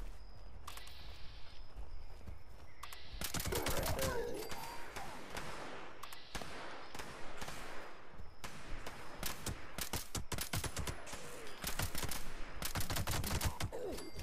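Anti-armor submachine gun firing in Fallout 76, repeated rapid bursts of automatic fire with a few short pauses, loud and close, over steady game ambience.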